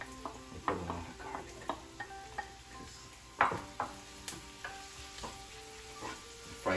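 Garlic and onion frying in a pan for fried stuffed squid in Athens, Greece, a steady soft sizzle broken by repeated sharp clicks of a utensil stirring against the pan at an uneven rhythm.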